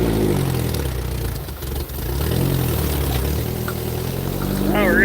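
An engine runs smoothly after a dose of B12 carb cleaner, a steady close mid-pitched drone that holds even before a brief rising rev at the end.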